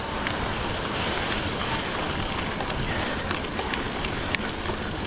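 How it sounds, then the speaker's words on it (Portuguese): Stream rapids beside a gravel road near Blumenau, Santa Catarina, give a constant broad rushing roar during a bike ride, steady and fairly loud throughout with a brief click near the end and no talking. "E agora um trecho de corredeira muito bacana."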